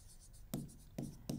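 Marker strokes on a board as a word is written, with three distinct tapping, scraping strokes at uneven intervals, close and quiet, over faint room noise.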